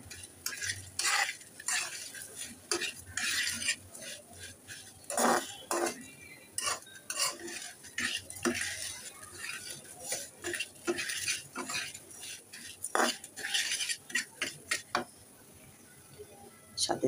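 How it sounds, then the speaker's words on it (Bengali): Flattened rice and sugar being stirred and fried in a pan, a spatula scraping and clinking in a steady, rapid rhythm over a faint background sizzle. "এবার চিড়া আর চিনিকে ভালো করে নেড়ে চেড়ে ভেজে নেব।"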